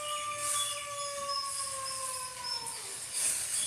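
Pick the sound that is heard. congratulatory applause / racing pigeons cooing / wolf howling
wolf howling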